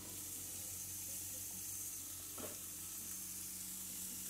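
Meatballs fry in a pan on the stove, giving a steady, loud broadband sizzle that carries on throughout, with one brief scrape or stir partway through.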